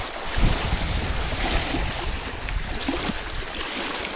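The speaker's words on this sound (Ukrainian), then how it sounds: "Вітер страшний." Strong wind gusts across an open fishing spot by the water, roaring and buffeting the microphone with constant rumbling noise and a faint wash of water underneath, steady and loud with no talk.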